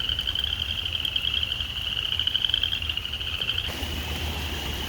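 A steady high-pitched chorus, consistent with frogs calling from a pond, carries on continuously with no pauses; fairly loud and even, over a low background rumble.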